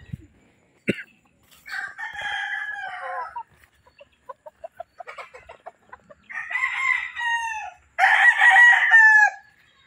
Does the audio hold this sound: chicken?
yes